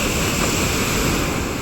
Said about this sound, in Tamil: கடல் அலை சூப்பராக இருக்குது.